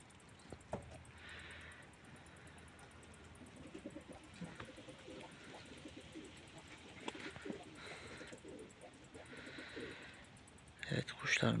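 Pigeons coo softly in repeated low murmurs in a loft after feeding, amid faint background noise, with scattered rustles and a sharper clatter at the end.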